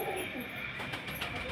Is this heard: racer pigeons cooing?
yes